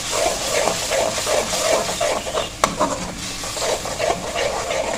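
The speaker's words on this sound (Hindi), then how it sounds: "अब हमने इसको थोड़ा सा भून लेना है" Chopped chillies and spices with turmeric frying in oil for purslane saag, giving a steady close sizzle with rhythmic scraping from stirring and one sharp tap midway.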